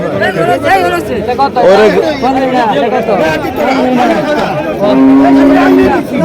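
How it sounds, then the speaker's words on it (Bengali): A large Friesian cow moos with long, drawn-out calls at a busy roadside cattle market in Chandina, Comilla, heard close over steady crowd chatter and people talking nearby. "বিশাল বড় গরু আসছে হাটে ফ্রিজিয়ান"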